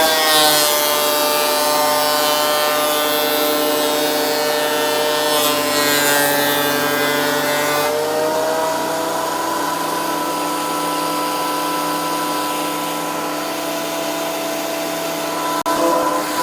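A Triton TPT125 thicknesser planing a wooden board, a loud sustained whining machine drone with a bright cutting rasp that shifts partway through, then runs on steadily, with no speech.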